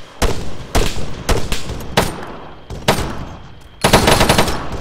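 Heavy automatic gunfire from a technical vehicle's mounted big gun in the game Arma 3, loud close bursts repeating about every half second to second with a longer rattling burst near the end.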